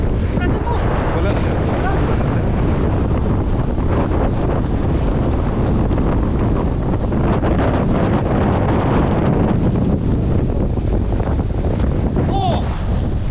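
Rough open sea churns with crashing waves while strong wind buffets the microphone, a continuous loud roar from a small boat at sea.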